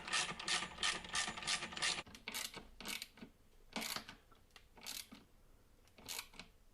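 Coach screws are driven in by hand to fix an Irwin Record V175 woodworking vice to a workbench, giving a quiet run of ratcheting clicks followed by separate spaced rasping turns.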